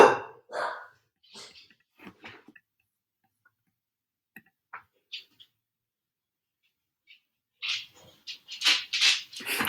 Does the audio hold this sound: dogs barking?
yes